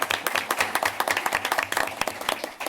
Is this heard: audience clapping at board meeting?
yes